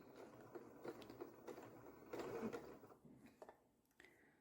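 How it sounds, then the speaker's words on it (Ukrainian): A sewing machine stitches piping cord into fabric, a faint, close mechanical whir with rapid rhythmic ticking that pulses in short runs, quiet and without speech. "Починаю шити."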